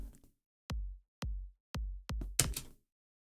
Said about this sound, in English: this drum loop I made, which starts with a kick drum